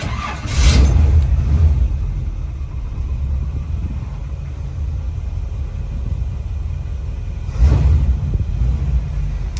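A 1951 Chevy Styleline rat rod with a turbo 350 transmission starts on a cold day, a loud cranking burst catching into a low steady idle rumble, followed by a second revving surge near the end.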